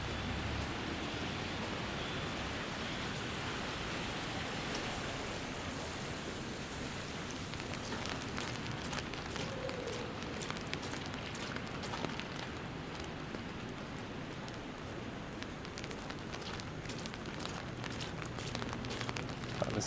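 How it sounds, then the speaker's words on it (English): Steady rain falls downtown in Toronto after earlier snow, a soft continuous hiss of drops on pavement and surfaces throughout, fairly faint and even with no talking. "And I come out and it's turned into rain."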